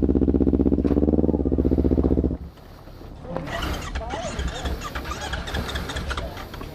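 Motorcycle engine revving hard at a campground near Bogor, a loud steady drone for about two seconds, then rough, fluctuating engine noise under voices talking.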